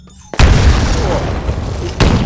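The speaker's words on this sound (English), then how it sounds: "Throw a grenade into each of the windows." Grenades thrown into windows blow up in Titanfall pilot training, a sudden loud blast followed by sustained rumbling debris and a second burst near the end, close and heavy.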